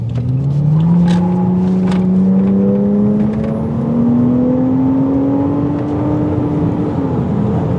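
A Toyota Chaser engine pulls hard in one long rising whine, then briefly drops and rises again as it shifts gear, loud and close with no talking.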